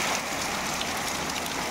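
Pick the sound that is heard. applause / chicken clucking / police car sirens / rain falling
rain falling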